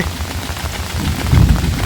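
Heavy rainstorm pouring down outdoors during a Thai countryside mushroom-foraging trip, a steady dense hiss of rain that swells louder toward the end, with no talking.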